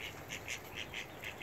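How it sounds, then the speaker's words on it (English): Ducks being fed by a man call in short, repeated quacks, five or six evenly spaced bursts over a faint outdoor background. "Look at those ducks, huh?"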